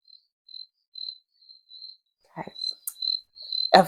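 A lone cricket chirps in short, evenly spaced high trills at close range against a quiet background, briefly interrupted by a couple of soft thumps near the end.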